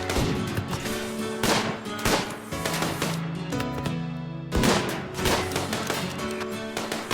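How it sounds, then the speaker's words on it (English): Colonists in the video game RimWorld fire on the solar panels and batteries that power the auto turrets. Bursts of gunfire and impacts crackle in quick, uneven volleys, loud and close, with a short lull near the middle and no speech. "The colonists fire upon the solar panels and batteries that power the auto turrets."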